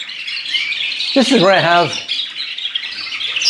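Chirps and squawks from caged birds, goldfinch mules among them, fill a bird room during the molt, a steady high twittering throughout with someone talking over the middle.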